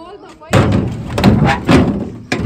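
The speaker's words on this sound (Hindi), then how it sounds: "दरवाज़ा भी बंद है, दरवाज़ा खोल दूं?" A door is opened with a sudden thud, followed by a few knocking bumps and another sharp thump at the end, while someone talks nearby.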